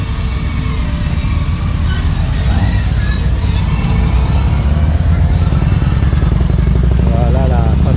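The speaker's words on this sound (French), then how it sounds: "il y a beaucoup de motos qui passent ici" Loud, steady engine roar from road traffic in a village street near Mont-Tremblant, Quebec, consistent with motorcycles passing close by, with a person talking over the continuous rumble.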